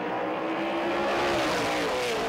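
Modified V8 saloon race cars, Fords and Chevys of around 400 horsepower, roar loudly and continuously together on the grid at a South African circuit, a dense wall of engine noise with rising pitch.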